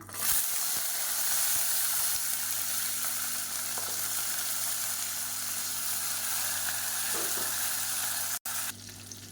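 Dried red chilies, garlic and shallots sizzle steadily in hot oil in a pan, a continuous close frying hiss with faint stirring knocks and no talk.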